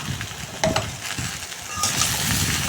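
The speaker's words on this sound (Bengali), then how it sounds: "আর এইবার সমস্ত মশলা দিয়ে ভালো করে নেড়ে চেড়ে নিচ্ছি" Spices and vegetables are stirred in a hot pan, a soft ongoing sizzle with a few scraping utensil strokes, close and moderately quiet.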